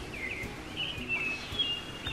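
Birds singing around a campsite deep in a redwood forest valley. Thin, high chirps and whistles sound at moderate distance over a soft, steady outdoor hush.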